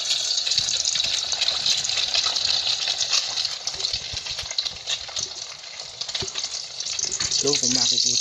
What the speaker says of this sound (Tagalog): ilalagay na po natin yung itlog sa kawali para po iprito